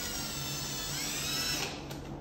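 A power drill whines continuously for a couple of seconds while boring a hole in a plastic urinal, a steady high motor tone close to the microphone that eases off near the end.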